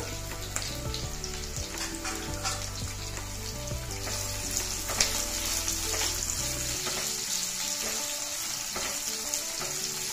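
Sliced onions and green chilies fry in oil, giving a close, steady sizzle and crackle with occasional stirring scrapes and clinks, with no talk over it.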